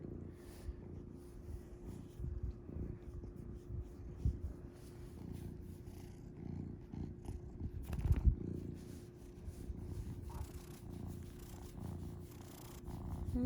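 Zuko the cat purrs softly and continuously at close range in a quiet living room, a low rhythmic rumble with small rustles and one brief louder shuffle partway through.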